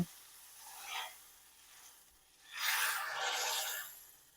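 Hot tempering poured into dal fry crackles in faint sizzling bursts, a short one first and then a longer, louder hiss lasting over a second in a quiet kitchen.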